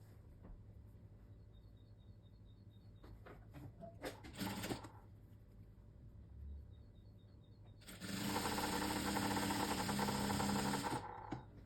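Domestic sewing machine stitching fabric for shorts: a short burst of fast whirring around four seconds, then a longer loud run of rapid stitching from eight to eleven seconds over quiet room noise.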